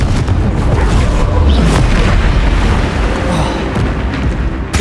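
Dense, sustained booming blasts from a Confringo blasting spell in the Hogwarts Legacy video game, loud and continuous with repeated low-end impacts through the whole stretch, no talk.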